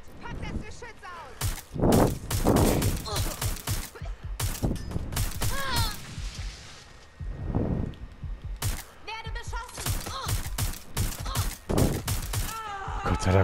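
Watch Dogs Legion Spider-Bot's deployed gun, loud sharp shots that come in irregular bursts with mechanical clanks, close by, while someone talks over parts of it.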